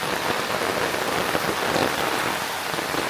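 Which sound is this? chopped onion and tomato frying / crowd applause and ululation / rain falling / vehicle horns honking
rain falling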